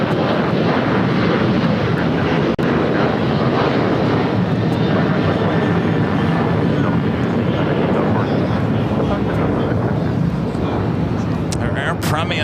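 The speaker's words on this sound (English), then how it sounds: "Our Air Premia heading to the north side." An Air Premia airliner taxis toward the north side at LAX, a continuous loud jet engine roar with broadband rumble, steady throughout with a sharp click early on and faint clatter near the end.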